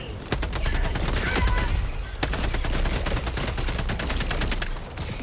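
A sentry turret in the video game Helldivers II fires long rapid bursts, loud and close, with a brief gap between two sustained volleys.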